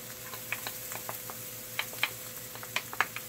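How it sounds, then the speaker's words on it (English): Garlic sautéing in a pan for chicken piccata gives a soft, quiet sizzle with scattered light pops and crackles, close by and fairly faint, with no talking. "I'm going to saute that for a minute or two"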